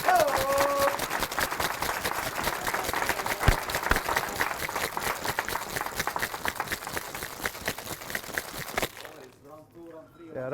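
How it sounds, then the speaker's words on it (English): People clap at a gin cocktail competition final, a dense, steady patter of applause lasting about nine seconds before cutting off, with a voice speaking briefly near the start. "I love people clapping for me"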